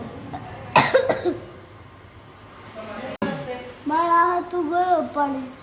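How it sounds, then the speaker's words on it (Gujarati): A child coughs in a couple of short, harsh bursts close by, followed by a young voice talking. "તને ઉધરસ આવી છે"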